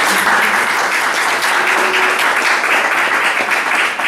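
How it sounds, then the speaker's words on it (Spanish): Audience at a talk on love gives loud, sustained applause, close and steady throughout with no speech on top. "Os pido un aplauso para animarla."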